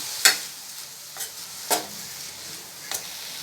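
Coriander, mint and green chillies sautéing in a pan for chutney: a few sharp stirring scrapes against the pan, spaced apart, over a faint, steady sizzle with no voices.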